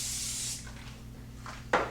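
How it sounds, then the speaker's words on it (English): Cooking spray hisses into a 9 by 13 baking dish in one steady burst that cuts off after about half a second, followed by faint handling and a brief clatter, with no talking. "I'm just going to take some cooking spray and spray the whole inside here"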